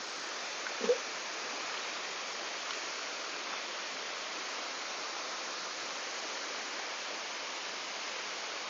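Water flows steadily over the third tier of Erawan waterfall in Thailand, a constant soft rushing hiss with no pauses and a faint brief knock near the start.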